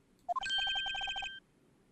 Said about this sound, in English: You're getting a phone call.